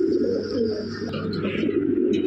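A newly paired, active couple of Lahori pigeons that have not yet laid eggs coo in low, steady, overlapping calls. The cooing is close and continuous throughout.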